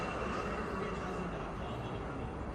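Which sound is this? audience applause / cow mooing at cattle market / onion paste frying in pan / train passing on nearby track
train passing on nearby track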